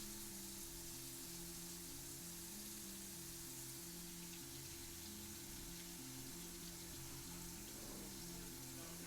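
Water running steadily from a tap while waiting for it to turn hot, a continuous hiss and splash, quiet and unbroken, with a low hum beneath and no voices.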